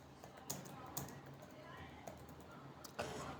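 Keystrokes on a computer keyboard typing a search term, a handful of light taps spread unevenly over a few seconds, faint against a steady room hum.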